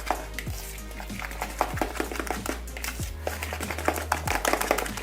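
A fork mixes a batter of ingredients with half a teaspoon of vanilla in a bowl, giving repeated close clinks and scrapes against the bowl in a steady rhythm over a low background hum.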